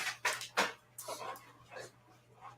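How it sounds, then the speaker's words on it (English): A pet dog makes a few short, breathy yips and whimpers close to the microphone, in separate bursts with quiet gaps between them, heard indoors at home. "you hear my sweet boy barking"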